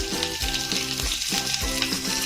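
Shallots and curry leaves dropped into hot oil for a tempering poured over fish curry, giving a loud, steady close sizzle with crackling throughout and no talking.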